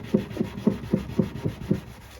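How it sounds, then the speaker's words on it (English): A sponge scrubs grease off an oven's glass door with a cleaning mixture, making about seven steady, evenly spaced rubbing strokes that sound close and moderately loud. "apply the mixture to the sponge and rub that grease away"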